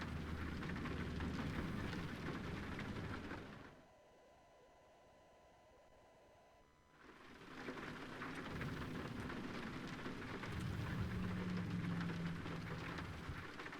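Steady rain in American Truck Simulator hisses loudly, drops out briefly to a near-silent gap, then returns at the same dense, even intensity.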